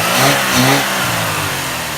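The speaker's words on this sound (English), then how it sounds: "Give it a couple revs." A car with a new cold air intake revs twice in quick succession, a loud, close engine swelling and settling back toward idle.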